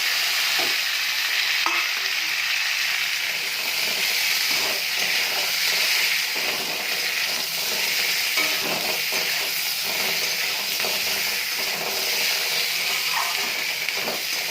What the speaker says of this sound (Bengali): পেঁপে আলুটা একটু ভাজা ভাজা করে নেব